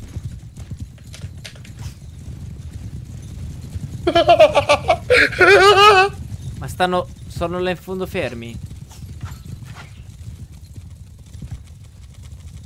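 Cavalry horses' hooves thud in a steady clip-clop in the video game Mount & Blade 2 Bannerlord, a low continuous rumble beneath Italian speech in the middle of the clip.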